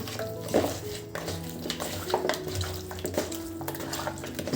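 Chicken being mixed by hand with salt and squeezed lemon juice in a bowl, giving soft wet squelching and stirring sounds with light clinks, steady and close, with no talk.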